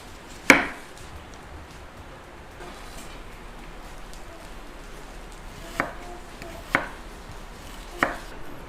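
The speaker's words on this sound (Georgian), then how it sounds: "დავჭერთ ხახვი და დავბრაზოთ." A knife chops onion on a board in a home kitchen while making a quick light salad, giving a few sharp, isolated cuts with long quiet gaps between them and no talk.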